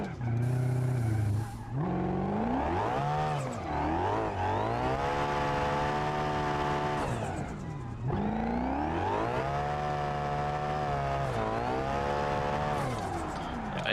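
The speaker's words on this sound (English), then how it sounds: "you can spin these little tires in any gear you want" In BeamNG, a small car's engine revs up and down repeatedly as its tires spin, with long rising and falling surges and brief drops between pulls. The sound is loud and continuous, with no talking.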